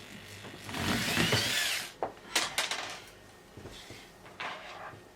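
A power tool works on wood in a home workshop, with a loud continuous whine for about two seconds followed by shorter bursts, rubbing and knocking handling noises.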